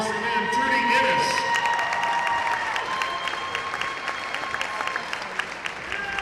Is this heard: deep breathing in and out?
no